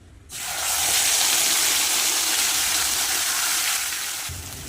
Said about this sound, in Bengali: তেলের মধ্যে দিয়ে দেবো পেঁয়াজ আর টমেটো বাটা